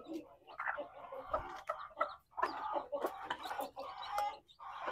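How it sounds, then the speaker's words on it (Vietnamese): A flock of imported-breed chickens cluck and squawk close by on a farm, with a rapid, irregular series of calls overlapping one another. "đây là những giống gà ngoại nhập đó"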